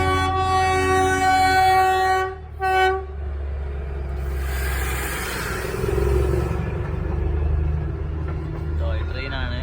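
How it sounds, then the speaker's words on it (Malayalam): Toy train in Gangtok on a small road in low visibility: a steady low rumble with a long, loud horn blast in the first couple of seconds, followed by continued rolling rumble and traffic noise, with a voice briefly audible near the end. "അപ്പോൾ ഇതാണ് ടോയ് ട്രെയിൻ."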